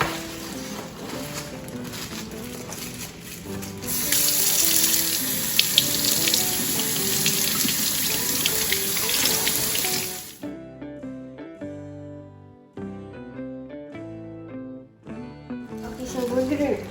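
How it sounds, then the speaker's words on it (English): Tie-dyed tea towels rinsed under a running tap: a steady hiss of water pouring into a sink for about ten seconds, then stopping, with a voice talking and music underneath. "we're gonna rinse it"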